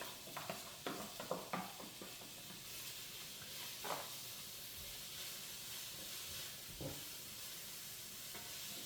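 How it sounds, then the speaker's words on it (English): Onions and peppers sauteing in hot oil in a pan, a faint continuous sizzle with a few soft stirring clicks early on, no talk. "We're gonna start by sauteing our onions and peppers."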